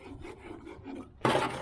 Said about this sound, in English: Maybe just scrape some crud off of there